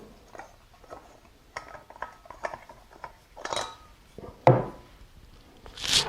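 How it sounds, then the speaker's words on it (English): Metal threads grinding and clicking as a Pocket Rocket camping stove is unscrewed from its fuel canister, a run of close, irregular ratcheting scrapes and taps with a sharper knock near the end. "You can unscrew the stove."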